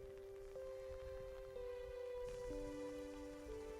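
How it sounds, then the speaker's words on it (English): Gentle rain falls over an outdoor parking lot as a soft, steady, even hiss, heard faintly beneath sustained held musical tones that shift pitch a few times. "enjoy that sound of the gentle rain"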